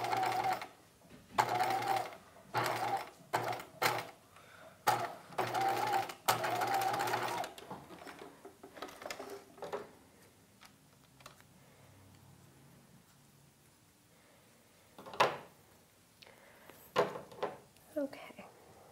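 A sewing machine stitches through both layers of a 1950s halter dress, hooking in hook-and-eye tape: dense rapid bursts of stitching start and stop in short runs, loud and close, then quieter work with a few later bursts and a voice talking.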